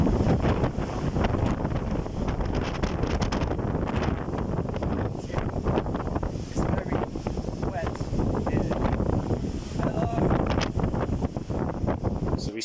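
Strong wind buffets the microphone near Baizhang Waterfall in China, a constant loud rushing roar with gusty swells, while a person talks over it.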